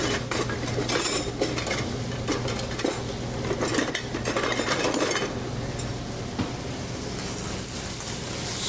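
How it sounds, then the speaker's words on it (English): Ground meat for tacos is stirred in a hot pan, giving a busy, continuous scrape and clatter of utensil against metal over a crackling, rain-like sizzle, close up and fairly loud. "Stir up our meat here a little bit."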